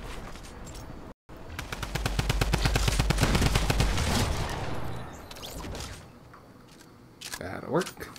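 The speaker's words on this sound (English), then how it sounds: "Wow, nice shooting." Rapid automatic gunfire in the video game Fortnite, a loud sustained burst of closely spaced shots that swells and fades, with a brief dropout near the start and game sounds continuing after.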